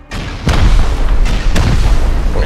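A rocket blast in Rust lands as a heavy, booming explosion, followed by a second sharp hit with rumbling debris, loud and close.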